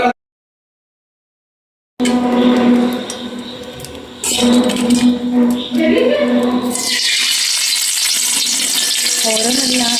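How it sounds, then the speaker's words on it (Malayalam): Fish frying in hot oil: after a short silence, muffled kitchen clatter and tonal background sounds give way to a loud, steady sizzle that lasts to the end. "ഞാൻ മീൻ പൊരിക്കാൻ വേണ്ടി പോവാണ്."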